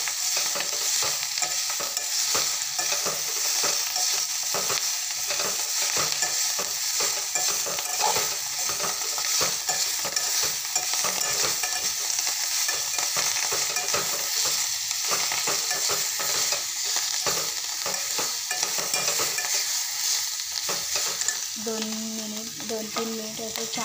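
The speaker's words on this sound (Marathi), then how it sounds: "मस्त अशी खालून वरून हलवून घ्यायची" Chavli (cowpea) bhaji is stirred in a pan, with a steady sizzle of frying throughout and frequent scraping and stirring strokes, close and continuous for the whole stretch.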